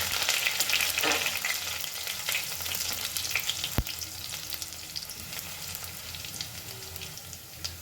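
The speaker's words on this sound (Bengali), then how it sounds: "এখন আমি দিয়ে দেবো থেতো করে রাখা রসুনটা দিয়ে ভালো করে একটুখানি নাড়াচাড়া করে নেব" Crushed garlic sizzles and fries in hot mustard oil, with mustard seeds in the pan, for a radish-greens dish. It is a close, steady crackle with scraping stirs, loud at first and easing slightly, with no talk.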